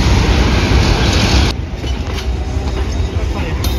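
Panoramic test train arriving at Surabaya Gubeng station, recorded from a flyover: loud close rolling rumble that drops sharply in level midway and carries on as a softer steady roar.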